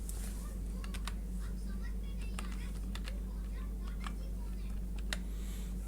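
Quick tapping on a computer keyboard while a captcha is filled in on a website form, with light, irregular key clicks heard faintly over a steady low electrical hum.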